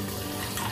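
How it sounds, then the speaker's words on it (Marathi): Water pours from a tap onto washed rice in a pot for a simple offering meal, a steady close splash and trickle that runs briefly without pause. "तांदूळ स्वच्छ धुवून घेतलेला आहे, पाणी घालून घेते।"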